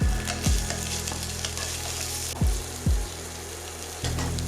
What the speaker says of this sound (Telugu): ఇందులోని 1 టీ స్పూన్ అల్లం వెల్లుల్లి పేస్ట్ వేసి ఫ్రై చేసుకోవాలి